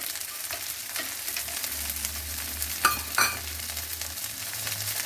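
Gravy with dry fruits cooks in a pan for Rajasthani gatta curry, giving a continuous soft sizzle with a couple of brief clatters of stirring partway through.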